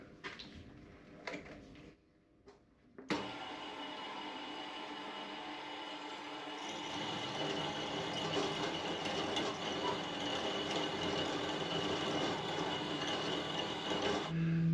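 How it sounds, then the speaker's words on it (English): A bandsaw grinds steadily through an imperial metal shaft in a shed, a continuous rasping whir that grows louder partway through and holds without talk. "Now we're through back to the bandsaw, back to the good stuff."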